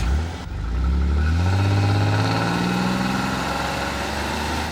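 A car engine fires up and revs, then settles into a steady, loud drone as the vehicle pulls away, filling the whole clip without any talk over it.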